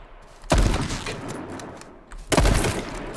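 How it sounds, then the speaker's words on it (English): Two loud hunting rifle shots ring out in the H1Z1 battle royale game, the first at half a second and the second near the end, each a sharp crack with a rolling tail and ambient noise between them. "I've hit him twice with a hunting rifle and he's still alive"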